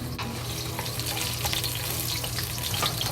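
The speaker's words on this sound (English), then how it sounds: "we add the garlic to the oil" Garlic sizzles in hot oil in a pan, a dense, continuous crackle and hiss that stays close and even throughout with no voices.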